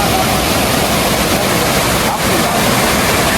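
Honnammana Halla waterfall in the monsoon, heard from about a hundred metres away, produces a loud, dense and unbroken roar of rushing water that fills the whole moment.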